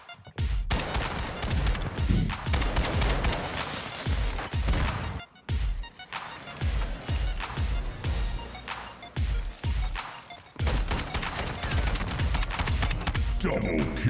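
Video game combat with shotgun and RPG fire, a dense, loud, continuous barrage of blasts and booms with very brief lulls.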